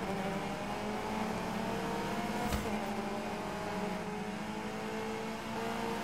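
A Lancia Stradale rally car engine in the game Gravel gives a steady drone with a sustained low hum and rising harmonics, loud and continuous, with a brief sharp click midway.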